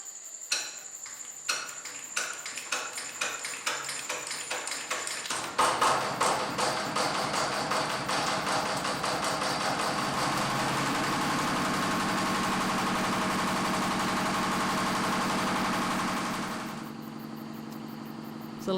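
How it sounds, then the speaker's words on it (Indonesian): A diesel generator at an isolated lighthouse is started: a few ticking, clattering turns build quickly into a loud, steady rumbling run lasting several seconds, then the engine note drops and settles near the end, with no speech. "Sumanto memulai pekerjaan dengan menyalakan genset berbahan bakar diesel"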